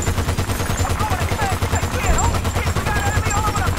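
Sustained turret machine-gun fire in Battlefield: Bad Company 2, a dense continuous rattle of rapid shots held without pause, loud and close, with explosions and game effects layered underneath.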